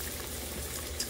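A brief, steady bubbling sizzle of beef-filled empanadas frying in a shallow layer of hot oil, close up and without speech.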